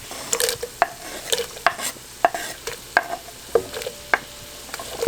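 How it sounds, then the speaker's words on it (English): Onions and peppers sauté in bacon grease for fried cabbage, a soft sizzle under frequent sharp scrapes and taps of a utensil stirring the pan, close by and uneven in rhythm. "So now we're just going to add our onions and peppers."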